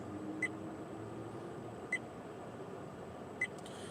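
Three short, faint electronic dash cam warning beeps, sounding because the dash cam is not running, spaced evenly about a second and a half apart over a constant low engine hum.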